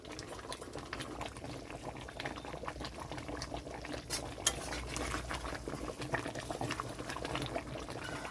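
Tilapia fish curry with cashew paste simmering in a pan, a continuous soft bubbling with scattered pops and small splashes, fairly quiet and close, with no talking.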